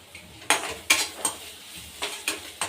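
Onions and spices are roasted in a pan for a fried potato and cauliflower dish cooked in little oil, with a spoon scraping and stirring in repeated strokes over a low sizzle, close and fairly loud.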